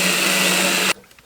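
A power drill bores through a coffee cabinet in a loud, steady high-pitched whine, which stops abruptly just short of a second, leaving faint workshop noise.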